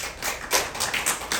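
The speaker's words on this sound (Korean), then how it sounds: "하나님께 감사의 박수." A church congregation at a Sunday worship service breaks into applause, a burst of many hands clapping in an even patter that swells and ebbs over a second and a half, heard alone.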